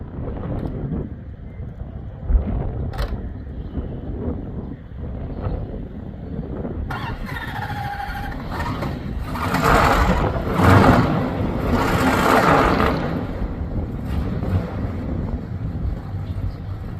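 A 1971 Dodge Polara with 31,000 original miles, back on fresh fuel after more than 20 years parked, rumbles with a low steady engine drone under heavy wind buffeting on the microphone, swelling louder partway through as it drives off.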